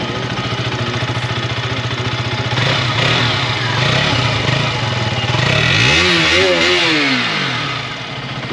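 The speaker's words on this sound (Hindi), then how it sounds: "तो आप KTM के नए वाले मॉडल RC 200 का आप एक बार साउंड सुन लीजिए।" A 2022 KTM RC 200 BS6 motorcycle engine runs loud and close, idling with a steady rapid thrum before it is revved several times into rising, swooping surges, with no talking.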